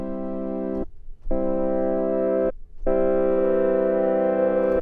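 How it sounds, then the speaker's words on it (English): Korg Prologue 8 synthesizer pad with the filter resonance raised, three loud sustained chords separated by short gaps, with a sharp high tone that grows stronger in the last chord. "you can hear how there's now a kind of harsh high tone that's still sticking around"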